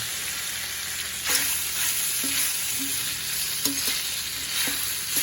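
Oil sizzling in a pan while meat fries for dinuguan, a steady close hiss broken by several light scrapes and clinks of stirring, no voices.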